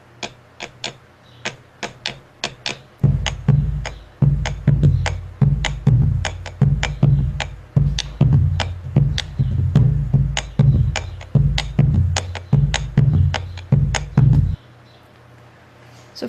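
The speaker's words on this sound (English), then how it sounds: "the phrasing of the main percussion instrument, the pombo legüero, is rhymed between binary and tertiary subdivision" A bombo legüero, the Argentine folk bass drum, plays a chacarera rhythm. Sharp rim clicks come first, then deep booming head strokes join, all in a steady alternating groove up close and loud, ending on a sustained low tone.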